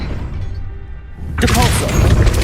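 A Depulso spell goes off in Hogwarts Legacy, starting after a quiet lead-in as a sudden loud burst of crashing, thumping force that holds through the rest of the moment.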